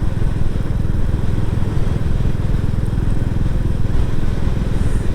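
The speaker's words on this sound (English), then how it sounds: "there's something especially magical about riding a single cylinder that's got a bit of character to it, like this one has." A Royal Enfield Classic 350 single-cylinder motorcycle engine runs with a steady, loud low-pitched thump, continuous throughout with no voices.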